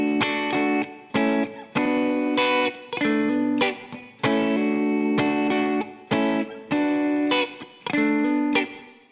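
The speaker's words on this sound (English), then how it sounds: "I've got my guitar here in split coil mode, and I'm using both pickups," Electric guitar in split coil mode using both pickups, strummed with rhythmic chord stabs separated by short gaps, close and fairly loud, with no talking.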